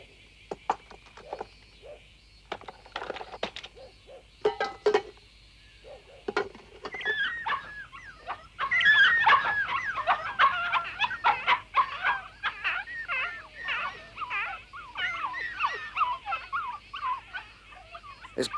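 A dog whimpers and yips in short high cries, sparse at first and then a dense run of squeals and whines, close by and without talk.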